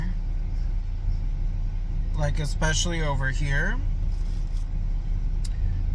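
A steady low rumble fills a moving car's cabin, constant throughout, while a person talks briefly over it.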